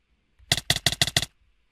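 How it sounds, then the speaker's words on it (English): Minecraft hit sound from the video game, used as the main sound in an electronic drop: five short, sharp, evenly spaced hits in quick succession, alone against near silence. "It's the Minecraft hit sound."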